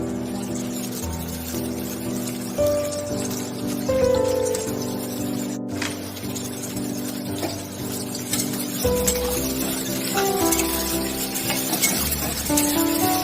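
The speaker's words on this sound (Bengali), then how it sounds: "পেঁয়াজটা ভেজে তুলে নেব" Onions fry in white oil for chicken biryani, a continuous crackling sizzle that swells and fades, with occasional utensil knocks and a low background hum.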